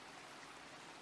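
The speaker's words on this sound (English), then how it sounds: "I think the sound of rain is echoing so loud here." Heavy rain echoes through ruins in the RPG Maker game Ruthless Smile, a steady, dense hiss of falling water that holds at an even level throughout.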